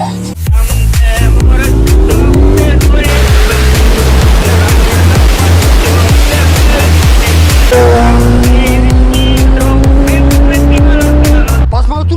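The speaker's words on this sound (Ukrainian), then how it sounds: "Я играю Мия в Need for Speed Most Wanted" Loud racing car engine from the video game Need for Speed Most Wanted revving and roaring continuously, pitch rising through gear shifts, with rhythmic pulsing and tire noise.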